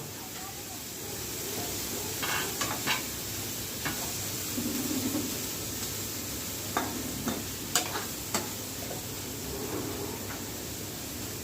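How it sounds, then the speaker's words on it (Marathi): Onion frying in a pan for a Maharashtrian dal-onion dish gives a steady low hiss with occasional stirring scrapes and clinks, fairly quiet, while a voice talks at times. "हा जरा कांदा लवकरात लवकर लालसर होऊन जातो"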